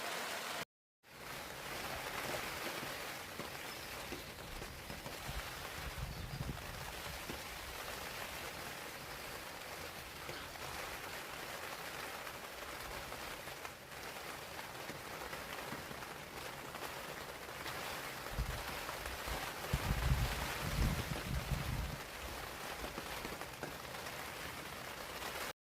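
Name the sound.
rain and wind driving against a camping tarp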